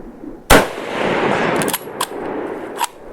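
A single loud report from an Enfield hunting rifle fired outdoors at a 200-meter target, sharp onset with a long rolling echo, followed by a few faint distant impact-like cracks.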